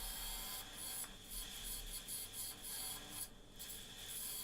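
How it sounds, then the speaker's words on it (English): A homemade carbide chisel scraping an epoxy resin bowl on a lathe gives a continuous soft rasping rub with a faint motor hum beneath, fairly quiet with brief dips and pauses. "So yeah, I've moved on to my homemade carbide chisel."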